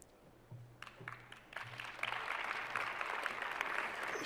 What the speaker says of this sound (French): Je vous demande d'applaudir Madame Ndella Sarba